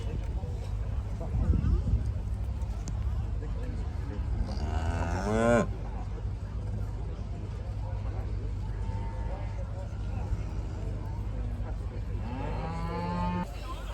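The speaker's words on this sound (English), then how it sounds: "Again, some more Simmentals being paraded in the ring." Simmental cattle at a livestock show in Scotland, with a couple of loud moos rising over crowd murmur and a low ground hum, and a voice talking nearby.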